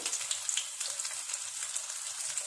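Chicken broast pieces frying in hot oil give a steady, dense crackle and sputter that runs unbroken from start to finish, close and fairly loud, with no voices.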